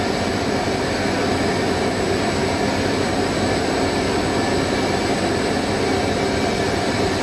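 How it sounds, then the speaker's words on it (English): A non-standard three-phase electric motor spins at low speed, giving a steady, loud, unbroken whine and hum with a broad airy rush that holds level throughout. "it's hard to spin these slow. And that's because it's not a normal 3-phase motor"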